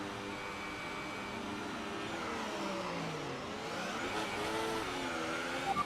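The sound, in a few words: race car engines on formation lap, from a video game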